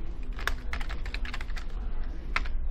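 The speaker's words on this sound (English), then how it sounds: "I don't have to click and move my hands out of the keyboard, which makes it faster for me to type" Rapid typing on a computer keyboard, close and clear, with uneven bursts of clicking keys and a couple of sharper louder key strikes, including tab presses.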